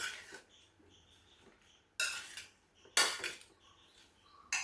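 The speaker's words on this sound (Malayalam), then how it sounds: "ഒന്ന് ഇളക്കി കൊടുക്കുക. ആ എണ്ണ മാങ്ങയുടെ കഷ്ണത്തിലെല്ലാം ഒന്ന് പിടിക്കട്ടെ." A spoon scrapes and clinks against a pan while mango pieces are stirred in oil, a few sharp metallic strokes separated by quiet pauses, close and fairly soft.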